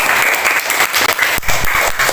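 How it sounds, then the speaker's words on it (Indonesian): Applause from an elementary school class during a science lesson, a steady burst of clapping from many children filling the room for about two seconds. "Beri tepuk tangan untuk Setiasa."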